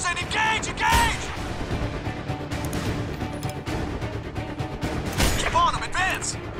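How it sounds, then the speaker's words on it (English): Heavy automatic and rifle gunfire in a firefight from Sniper Ghost Warrior 2, loud, dense, continuous bursts across the whole stretch, with shouted voices mixed in. "We're taking fire, Cole, open up on them!"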